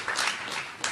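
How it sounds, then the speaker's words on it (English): Audience applause for historian Ron Chernow, author of the Hamilton biography, a steady wash of clapping from a crowd throughout the short moment, moderately loud with a swell near the end. "he deserves a major round of applause"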